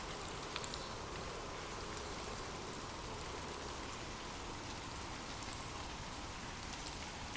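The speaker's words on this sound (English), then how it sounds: "Imagine gentle raindrops falling softly on leaves" Steady, gentle rain patters evenly on leaves, a dense soft hiss that runs unbroken and close with no voices.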